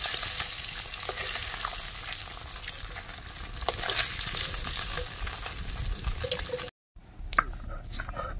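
Fish fries in hot oil in a home kitchen, a loud, close, continuous sizzle and crackle with stirring, broken by a brief silent gap near the end.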